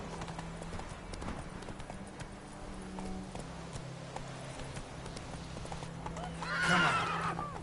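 Horse hooves clip-clop in a steady running rhythm in The Witcher video game, with a neigh rising near the end over background game sound.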